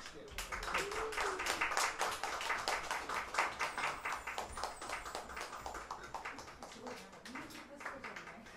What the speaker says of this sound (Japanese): 百本舞、拍手でございます。